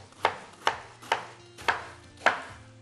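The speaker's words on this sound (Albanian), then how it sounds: "Presim edhe lakrën tjetër, duke shtypur paksa." A knife chopping through cabbage on a board in a home kitchen, five crisp, evenly spaced strokes that sound close and clear with nothing else around them.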